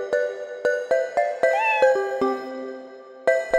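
A kitten meows in a children's fire-truck cartoon: a brief rising cry sits among bright, evenly spaced plucked musical notes, all close and clear, with no talking.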